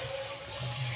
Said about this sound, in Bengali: এই যে এই পর্যায়ে আমি জল দিয়ে দেবো,